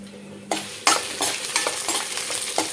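Cumin and coriander seeds roasting in a pan, with a bright dry sizzle that starts abruptly and carries repeated quick spoon scrapes while they are stirred.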